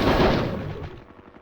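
A single heavy gunshot in Hogs of War strikes loud and close, then a booming tail trails off and fades over about a second.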